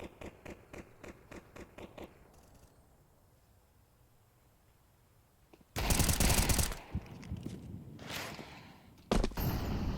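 Rapid bursts of automatic gunfire in a Counter-Strike 2 duel, a clipped rhythmic volley at first, then a quiet stretch and several loud, close, dense blasts of shooting near the end.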